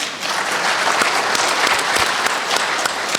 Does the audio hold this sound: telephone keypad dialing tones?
no